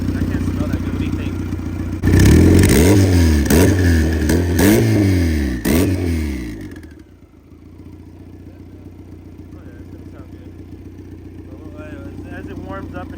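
Turbocharged Honda B18B1 engine on an ethanol blend, revved sharply several times in a row, then settling back into a quieter, steady idle, heard up close.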